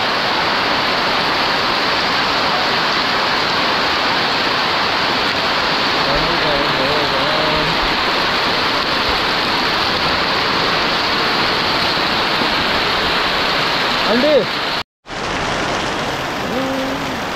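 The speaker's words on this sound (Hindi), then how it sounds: "यहाँ तक बारिश" Heavy storm rain roars in a dense, unbroken hiss, briefly cut off near the end, with faint voices occasionally under it.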